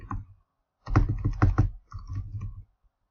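Keys clatter on a computer keyboard as a folder name is typed, several close, quick bursts of clicks separated by short pauses in a quiet room.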